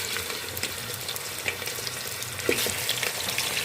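Chicken frying in a pan with whole garam masala spices, a steady close sizzle and crackle running throughout with small stirring clinks, no voices.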